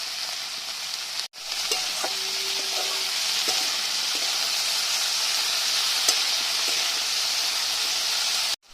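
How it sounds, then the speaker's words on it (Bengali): Potatoes and cauliflower with turmeric and salt fry steadily in a pan, giving an even, continuous sizzle that runs almost unbroken apart from one short gap near the start, with a few faint clinks over it. "আলু ফুলকপিগুলো ভালো করে ভেজে নিচ্ছি।"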